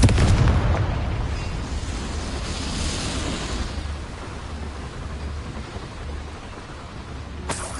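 A Confringo fire-spell explosion in the Hogwarts Legacy video game lands in a small mine as a loud, deep blast, followed by a long rumbling decay and a sharp crack near the end.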